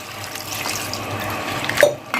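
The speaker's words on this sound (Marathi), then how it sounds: "ही भाजी जी आहे ना ती आपल्याला चांगली अशी 2 ते 3 पाण्यामध्ये चांगली आता धुवून घेऊया" Hyacinth bean vegetables being rinsed in water, giving a steady splashing and trickling close by, with a louder slosh near the end.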